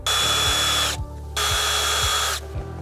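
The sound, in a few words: power tool loosening 7mm bolts by OBD2 connector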